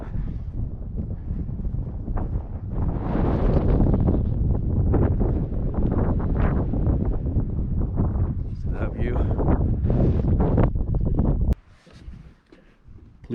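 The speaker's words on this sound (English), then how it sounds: "I don't know if you guys can hear me over the wind." Strong wind buffets the microphone with a steady roar atop a cold, muddy mountain fire tower, while people talk close by. The gusts drop away abruptly near the end.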